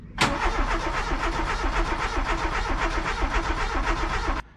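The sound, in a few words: old Volkswagen Golf car engine starting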